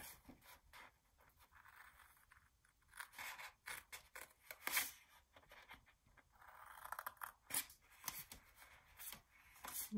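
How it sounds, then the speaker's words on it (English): Quiet, close snips and scrapes as scissors cut small shapes out of paper for a handmade paper wallet, irregular short cuts and rustling with no talking. "So just cut these out right here, this little tiny box on the top."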